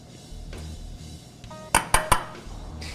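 Avocado and spinach salad being mixed with olive oil in a bowl, soft handling noises followed by three sharp clinks of a utensil against the dish.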